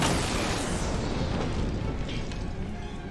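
Tanks blowing up in Batman: Arkham Knight, a sustained, loud roaring blast with rumbling debris that fades slowly, heard on its own without talk.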